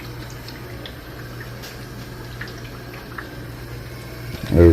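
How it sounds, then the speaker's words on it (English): Water pours steadily into the container of an Aquverse A2500-K hot/cold countertop water dispenser during a filter change, a constant rushing flow heard alone, ending with a brief louder knock. "Water is now pouring in"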